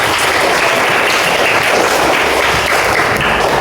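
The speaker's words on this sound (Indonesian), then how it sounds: "Tepuk tangan." Schoolchildren in a classroom break into brisk, steady hand clapping during a coding lesson, a close, busy patter of claps lasting throughout.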